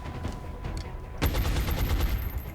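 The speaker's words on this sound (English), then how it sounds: "But I'm hoping that Brown can take him out here with a well-placed LMG shot" A light machine gun fires a burst in the XCOM Enemy Within video game, a sudden loud crackle of rapid shots that starts midway, ringing on after a quieter stretch, with no talking.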